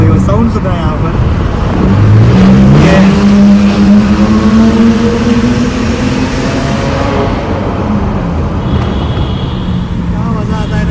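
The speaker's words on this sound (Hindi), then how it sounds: "यहाँ पर हम भगाएंगे एक कार अपनी बगीरा, और सुनना भाई वो साउंड सुनना है यहाँ पर" A car is revved hard and accelerates through a road tunnel at night in Pune, its engine note rising loud and close, with tunnel reverberation and traffic rumble continuing underneath.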